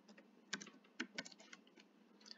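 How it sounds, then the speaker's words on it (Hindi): A user ID is typed on a computer keyboard in a quiet room, with soft, uneven key clicks and a few sharper taps, close and faint, with no talking. "तो मैं अपना यूजर आईडी डाल देता हूँ"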